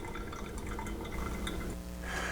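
Water drips and trickles through a pour-over coffee brewer making Costa Rican Silva coffee, a soft, quiet, continuous patter with no talking.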